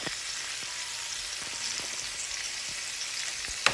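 Ground beef fries in a pan with a steady, soft sizzle and faint crackles throughout, ending with a brief sharp tap of a utensil.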